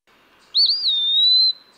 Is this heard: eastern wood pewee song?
yes